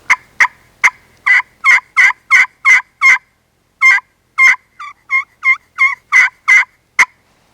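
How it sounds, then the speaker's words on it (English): An old classic custom slate turkey pot call produces a loud, close series of about eighteen sharp cuts and clucks in quick bursts, with a brief pause midway and softer notes before the final strokes. "Popping it and just snapping it for cuts and clucks."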